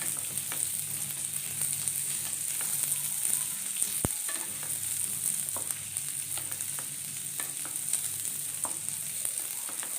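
Spices with coriander powder and a little chili sizzle in a frying pan while being stirred, a steady close hiss with light scrapes and one sharp clack of the utensil.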